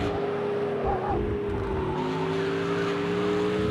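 A race car engine at full throttle in Project Cars 2 at Imola, a high steady whine with gear-driven pitch shifts and slight tire noise, loud and close with no talk.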